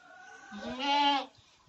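A farm goat gives one clear, nasal bleat close by, rising and wavering for under a second amid quiet surroundings.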